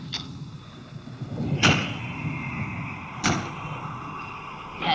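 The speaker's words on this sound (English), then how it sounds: "That's just the wind banging a door." A door bangs in the wind inside an old house, three separate thuds spaced a second or two apart against a constant windy rumble and drone, with no talking.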